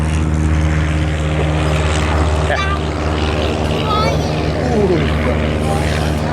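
A P-51 Mustang fighter taking off, its piston engine droning steadily with a low propeller hum and rising whine, loud and sustained, while people nearby voice excitement over it.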